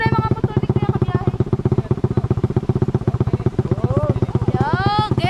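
A Filipino rider's motorcycle with an engine problem runs steadily with a rapid, regular chugging pulse throughout, while people talk over it close by.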